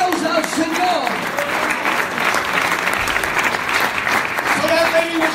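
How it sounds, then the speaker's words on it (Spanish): A church congregation applauds loudly and continuously, dense clapping filling the room, while voices carry over it, including an amplified voice that rises at the start and again near the end. "Somebody clap their hands to the Lord."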